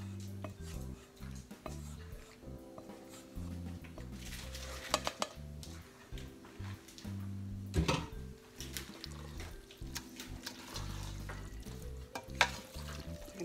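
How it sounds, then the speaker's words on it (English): Pasta being stirred through a tarragon cream sauce with roasted vegetables, giving soft wet scraping and sloshing with light utensil clinks against the pan and a faint sizzle underneath, fairly quiet and continuous. "Give this a good stir so that all the pasta gets coated nice and creamy"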